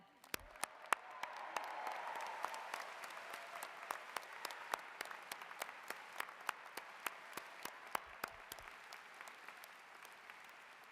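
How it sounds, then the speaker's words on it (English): Applause rises at a graduate engineering ceremony, a soft sustained patter from a large seated audience, with a few sharp, close individual claps standing out throughout. "Now, let's applaud them."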